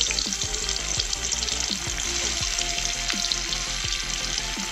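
Paneer pieces fry in hot mustard oil, giving a steady, close broadband sizzle with repeated soft clicks and taps from the pieces and utensil, continuous throughout with no talking.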